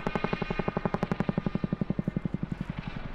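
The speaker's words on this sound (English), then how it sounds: "He's gone nose down now and back into his spiral descent." RAF Chinook twin-rotor helicopter in a nose-down spiral descent at an air display, its heavy rotor blades thudding in a steady, loud rhythmic chop that fades slightly toward the end.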